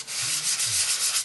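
Fiberglassed balsa parts being hand-sanded: a quick run of close, rhythmic abrasive strokes, a dry scratchy rubbing with no voices.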